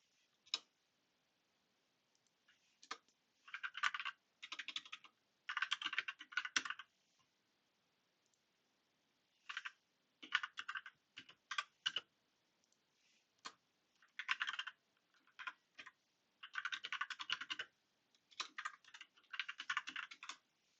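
Bursts of rapid keystrokes on a computer keyboard while writing Python code, clusters of clicking separated by short pauses, close and fairly quiet with no talking.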